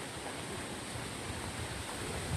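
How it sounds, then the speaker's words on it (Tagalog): Strong outdoor wind on a walk to drop a high school student off, roaring as steady, loud broadband rushing that fills the whole stretch with no speech. "masarap ang hangin. Kaso malakas."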